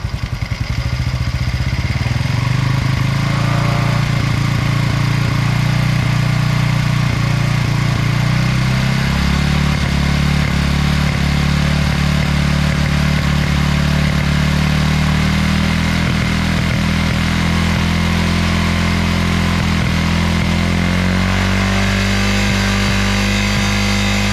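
A Honda Wave 125 motorcycle engine with a hesitating throttle runs loud and close throughout, its revs climbing and holding high as the air screw is adjusted, with a steady droning roar and slight pitch shifts.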